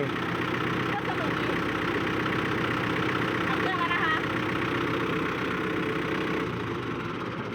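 A tractor engine idles with a steady, loud rumble throughout, and faint voices are heard under it.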